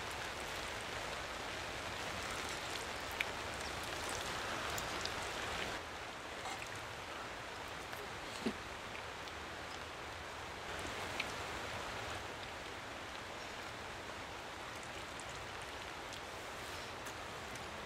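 Steady rain falls in a pine forest beside a river, giving a continuous soft hiss of drops with the river's rushing wash underneath and occasional louder individual drips, fairly quiet and unbroken.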